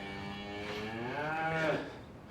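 A cow moos in a long, loud, drawn-out call with a rising and falling pitch, close by in a farm setting, heard without any talking.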